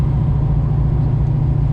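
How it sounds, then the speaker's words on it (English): Exhaust of a 1964 Ford Mustang convertible with a 289 V8 and automatic gearbox, a low steady rumble heard from inside while driving, close and continuous with no talking. "You can hear the rumble of the exhaust behind us"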